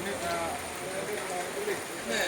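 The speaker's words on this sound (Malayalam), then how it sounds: "മഴ ഇപ്പോഴും തിമർത്ത് പെയ്തുകൊണ്ടിരിക്കുകയാണ്" Heavy monsoon rain pours during flooding in Kavanur panchayat, Kerala, a steady close roar of water with no clear pauses.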